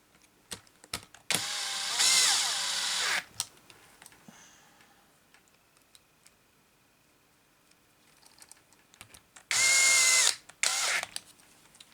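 A power driver tightens hex screws on an MST TCR M RC car kit in two loud whirring bursts of a couple of seconds each, separated by faint ticks and handling noises in a quiet room.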